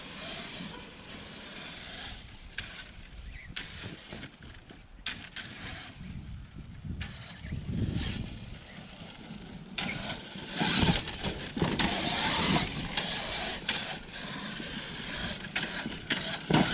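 Primal Raminator RC monster truck converted to a brushless 12S setup, driving and catching air outdoors: a steady electric motor whine with bumps and thuds of landings, rising louder toward the end, with no talk.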